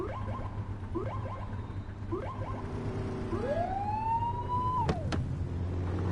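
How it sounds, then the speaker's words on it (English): A police car siren in The Precinct blips in a few short rising yelps, then winds up into one longer wail that cuts off abruptly, over a steady low engine hum. "Get on their tail and blip the siren."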